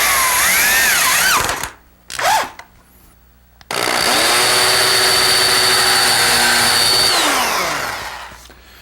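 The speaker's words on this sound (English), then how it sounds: "This is just a plain old electric drill, variable speed reversible drill that I've chucked a Phillips head bit in" A variable speed reversible electric drill fitted with a Phillips head bit drives screws into boards for L-girder benchwork. Its close, loud motor whine ramps up, cuts out, gives two short bursts, then runs long before winding down.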